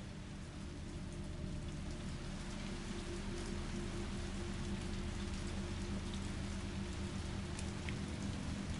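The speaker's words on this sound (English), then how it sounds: "There's some really nice sounding fucking rain effects." Rain falls steadily in the Resident Evil 3 video game, a dense constant patter of drops on surfaces with a low rumble beneath, even and unbroken throughout.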